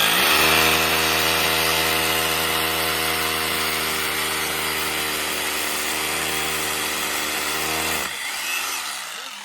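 A power drill bores holes while an antenna is mounted, a loud steady grinding whine that runs nearly unbroken for about eight seconds and then stops abruptly, leaving only faint background noise.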